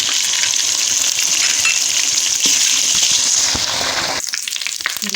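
Spices sizzle loudly in hot oil in a pan while cooking Lahori chikkar chole, a steady crackling fry that drops off sharply near the end.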